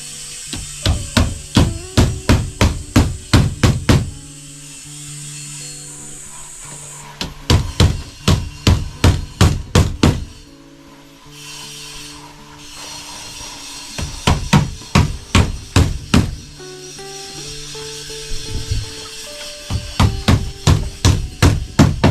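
Rapid bursts of sharp hammer blows drive nails into wood, grouped in quick rhythmic runs of about eight to twelve strikes separated by short pauses, loud and close.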